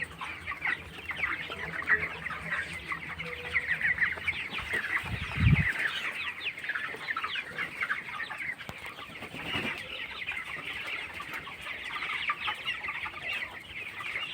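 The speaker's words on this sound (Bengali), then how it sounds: "ব্রয়লার মুরগি" A house of 21-day-old broiler chickens on a poultry farm keeps up a dense, steady chorus of soft clucks and chirps at moderate level, with a brief low thump partway through.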